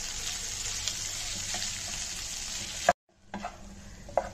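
A spoon scrapes and stirs through boiled mashed potatoes sizzling in a hot pan with spices, a steady frying hiss cut off briefly and then resuming with a few clinks.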